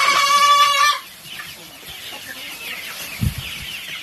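A hen gives a loud, drawn-out clucking call for about a second, then quieter rustling and a soft thump follow.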